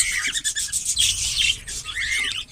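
Cockatiels in a breeding colony chirp and tweet in quick, bright overlapping calls, close and fairly loud, with no talking.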